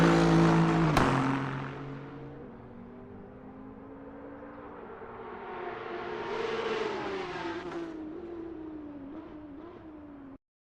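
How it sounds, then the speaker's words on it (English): A loud V8 race car at the Nürburgring 24 Hours screams past, a sharp burst up close settling into a sustained engine drone that swells and fades as it travels away. "Any loud V8 is a fantastic car to have screaming in your ears"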